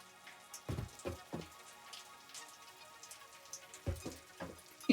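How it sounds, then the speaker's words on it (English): Gentle in-game rain in Satisfactory patters softly and steadily, broken by a few sharper nearby drip-like taps around the first and fourth seconds. "Raining in the game, but just quietly."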